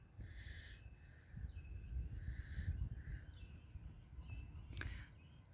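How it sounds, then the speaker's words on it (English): Small birds chirp and call intermittently from a distance, with a brief sharper call near the end, over a steady low outdoor rumble in a yard among trees, with dogs and squirrels nearby. "I like listening to the birds sing."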